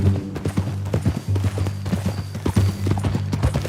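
Horse hooves clip-clopping in Red Dead Redemption 2, a loud close series of rhythmic hoof strikes in a steady walking gait, accompanied by low tonal engine-like hum from the game's mix.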